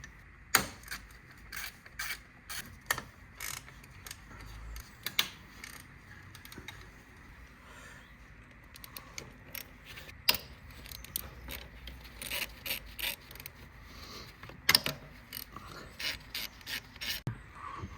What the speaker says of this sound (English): With the screwdriver, undo this clip.